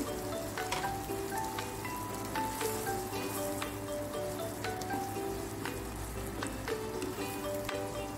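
Sesame oil sizzling steadily in a hot pan while shrimp cooks, a dense crackling hiss with scattered pops running continuously and close.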